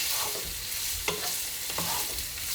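Kielbasa stir-frying in sesame and avocado oil in a skillet makes a continuous close sizzle, with several scraping stir strokes spaced through it.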